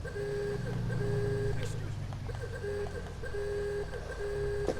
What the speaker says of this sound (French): Écoutez le son du klaxon.